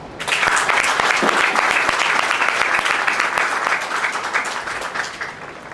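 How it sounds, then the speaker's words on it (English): A large audience at a US Air Force Basic Military Training graduation ceremony applauds steadily for several seconds, a dense, loud wash of clapping that fades slightly toward the end. "Round of applause."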